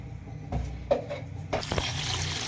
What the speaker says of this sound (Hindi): 2 गिलास भर के मैं इसमें डाल रही हूँ पानी के